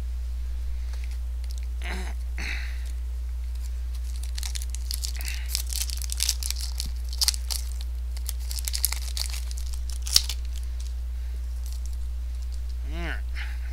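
A Dragons of Tarkir trading card booster pack is torn open, its foil wrapper crinkling and ripping in close, crisp bursts, with brief rustles spread through the stretch and a voice talking now and then.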